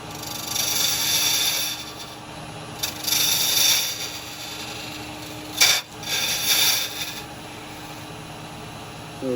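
Bowling ball turning on a wood lathe as a square carbide chisel scrapes the resin shell, giving a continuous rasping whir with several louder cutting swells and a sharp catch partway through.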